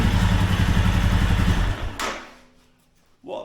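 Royal Enfield Himalayan motorcycle engine running loud and close with a steady mechanical rattle from a worn oil pump gear, cutting off abruptly partway through, then a brief clunk near the end.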